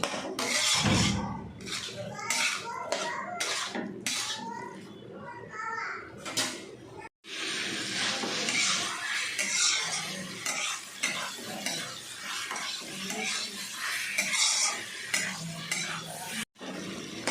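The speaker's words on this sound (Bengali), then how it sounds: "এরপর সমস্তটা আমি ভালো করে আবার কষিয়ে নেব, গ্যাসের ফ্লেমটাকে হাইতে রেখে।" Meat being stirred and sautéed on high flame in a pan for a Kolkata-style Mughlai paratha filling, with a series of sharp spatula scrapes and clinks, then a continuous sizzling stir.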